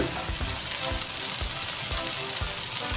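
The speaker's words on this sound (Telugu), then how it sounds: "పూర్తిగా ఏగాలి పచ్చివాసన పోయేదాకా వేయించుకోవాలి" Onion and tomato paste frying in a pan for an egg curry gives a dense, continuous hiss and sizzle at close range, with soft low stirring thumps underneath and no talk.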